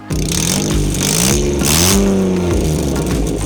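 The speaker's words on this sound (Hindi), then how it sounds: "साउंड वो उसका अपने इंजन का वो इस तरह ही हो गया" A Suzuki Bolan van's engine, fitted with a straight-pipe exhaust, revs loudly and continuously, its pitch rising and falling through several throttle blips with no one speaking.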